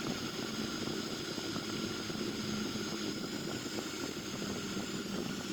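Sukhoi Su-30MK2 jet engine at idle thrust in a flight simulator game, a steady, even roaring hum that holds without change throughout.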